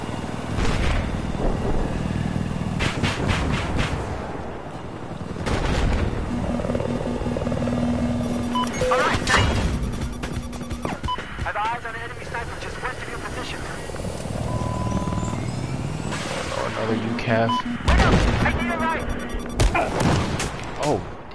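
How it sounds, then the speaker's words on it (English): In a combat video game, an enemy helicopter's rotor drone rumbles steadily through a busy battle soundscape with gunfire and crashes, while players talk over it throughout. "I spotted an enemy helicopter."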